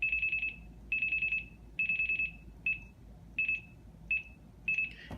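An Esquire blue box running new ATtiny85 code dials a phone number in dial pulse mode, giving clear, fairly quiet bursts of a single high tone. About seven bursts of varying length and spacing play over a faint background hiss.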